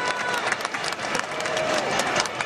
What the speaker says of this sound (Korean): 큰 박수로 함께 해주시기 바랍니다